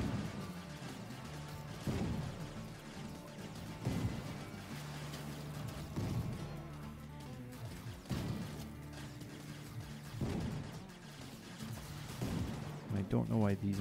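Guns and artillery shells firing in the vehicle-building game TerraTech, heavy booming shots landing roughly every two seconds over a dense mechanical clatter, with a voice talking throughout.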